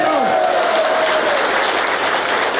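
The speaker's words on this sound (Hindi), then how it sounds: "जोरदार ताली बजाओ" Loud, dense crowd applause at a political gathering in Seppa East, steady throughout with a whistle-like tone sliding down in the first second.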